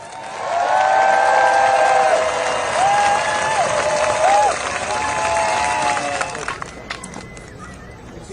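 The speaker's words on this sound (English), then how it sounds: "Please give a warm round of applause for Jessica Denson." Audience at a political rally breaks into sustained applause and cheering as Jessica Denson is introduced, a dense wash of clapping and crowd voices that fades out toward the end.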